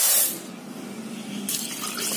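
Water pours from a tap over horse gram set to soak, a steady close splashing and hissing stream that bursts loud at the start, settles, then brightens again near the end.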